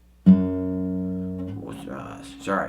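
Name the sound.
guitar phrase, hammer-ons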